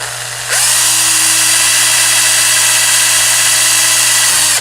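A power drill drives a small screw through a GoPro mount: a loud, steady high whir kicks in after a moment of quiet, holds close and constant for about four seconds, then cuts off.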